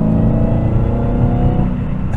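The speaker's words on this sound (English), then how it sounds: "That supercharger whine feels like it's coming more imported from this sort of the cabin." A supercharged V8 in a 2023 Dodge Challenger SRT Black Ghost, a loud, steady engine drone with a faint whine on top, heard close from inside the cabin.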